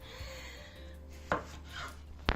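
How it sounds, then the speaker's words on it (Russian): A knife cuts onion into quarter rings on a cutting board in a home kitchen, with a couple of sharp near chops over a quiet background hum. "Так, мы нарезаем наш лучок."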